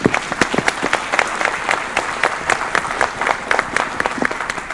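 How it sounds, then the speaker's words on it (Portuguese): Forum audience at a trade-fair and events sector meeting giving a round of applause, loud and close with many overlapping claps and sharp individual hits, sustained throughout. "Uma salva de palmas."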